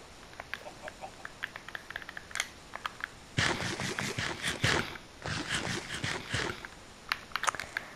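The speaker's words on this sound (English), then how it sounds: "My loud munching and crunching is gonna wake up the whole neighborhood" Loud, close munching and crunching of food in a Minecraft game, with dense crackling bursts over several seconds and scattered clicks around them.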